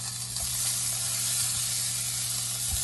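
Vegan burgers sizzle steadily in a hot pan as they are flipped, a close, continuous hiss and crackle with soft knocks of the spatula and no talking.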